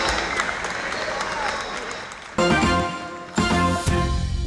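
Protesters applaud as they turn around and walk back, a brief wash of clapping lasting about two seconds before giving way to music.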